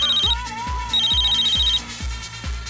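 An electronic telephone ringtone chirps in short repeating bursts, with a steady pulsing beat underneath.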